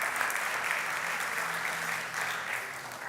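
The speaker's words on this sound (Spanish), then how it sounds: "Dale ese fuerte aplauso a Dios," A church congregation claps together in sustained, even applause that fills the space for the whole stretch, with only a slight dip partway through.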